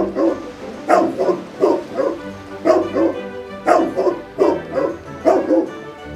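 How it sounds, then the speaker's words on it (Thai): A dog barks repeatedly in a steady rhythm of short, close yapping barks, about a dozen across the stretch, with no talking. "แกเห่าทำไมกัน"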